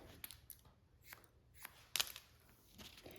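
Scissors snipping hair during a short pixie haircut on a woman over 60, giving a few faint, quiet cuts spread across a hushed room with a soft crisp snip standing out near the middle.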